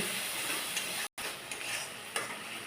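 Chicken masala with sugar and tomato sauce being stirred in a pan, a steady broadband sizzle with soft scraping strokes and a brief dropout midway, no voices.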